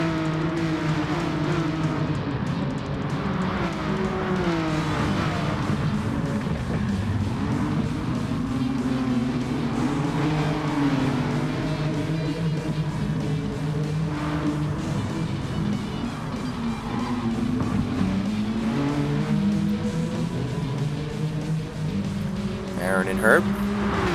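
Race cars in a sim racing game drone and whine steadily around the track, their engine notes rising and falling as they jostle for position, with a commentator talking continuously over the racing throughout.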